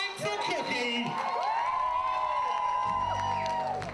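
A live show audience cheers, whoops and claps for a performer named Cookie, with rising shouts and sustained crowd noise throughout, close and lively, mixed with a few voices calling out.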